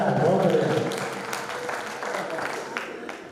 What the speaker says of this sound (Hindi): अगर जम गया तो एक बार तालियां बजाओ यार।